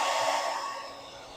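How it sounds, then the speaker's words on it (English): A hair dryer blowing on freshly painted miniature material, a steady airy whoosh that is loudest at first and gradually fades away. "I like to use a hair dryer to dry the material"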